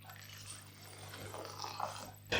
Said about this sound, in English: Then you want 250ml, 1 cup of boiling water.